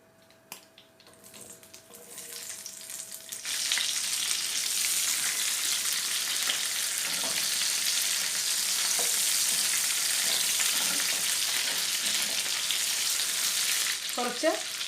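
Onion, broccoli and mixed-colour capsicum sauté in a hot pan, a steady bright sizzle that swells after a few quiet seconds and holds, with occasional stirring scrapes and a brief clatter near the end.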